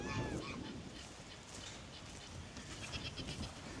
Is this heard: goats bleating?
yes